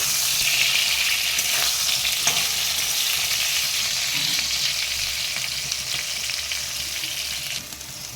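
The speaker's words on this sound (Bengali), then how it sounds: "বেগুন আমার লাল লাল করে ভাজা হয়ে গেছে" Eggplant slices fry steadily in hot oil in a kadai, giving a dense, continuous close sizzle with a few faint clinks, fairly loud and even throughout with no talking.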